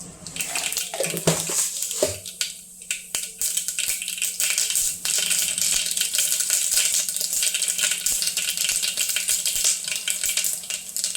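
Mustard seeds splutter and pop in hot oil in a pressure cooker for a potato curry. Sharp crackles burst loud and dense at first, then settle into a steady, close sputter.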